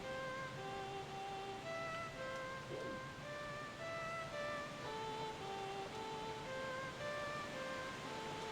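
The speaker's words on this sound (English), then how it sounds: "I thought the sound of the waves would drown it out." Ocean waves in The Legend of Zelda: The Wind Waker, a soft, continuous wash of surf sitting low and quiet beneath melodic musical tones, with no talking.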